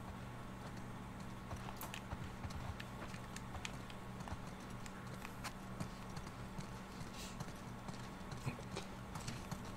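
Horse hooves clip-clopping at a steady walking rhythm in the video game The Last of Us Part 2, faint and continuous under a low game ambience.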